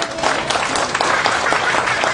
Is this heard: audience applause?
yes